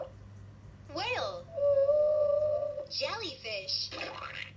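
A Leapfrog animal book toy plays a whale vocalization, a steady, tonal moan held for over a second, bracketed by short spoken announcements from the toy.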